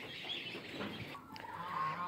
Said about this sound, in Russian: Эти гуси.